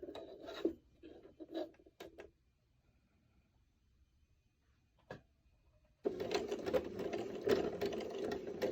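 A sewing machine stitches across a hood seam in short, faint bursts, pauses through a quiet stretch, then picks up a louder, steady run of rapid needle chatter near the end.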